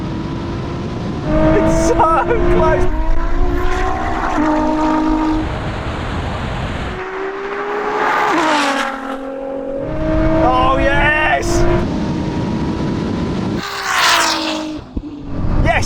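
A Ferrari SF90 and a 1000 hp Nissan GT-R launch in a drag race, engines roaring loudly with climbing, shifting tones through the run, while a person calls out excitedly partway through.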